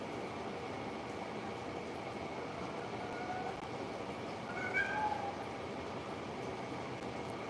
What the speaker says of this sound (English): Somebody's meowing over there.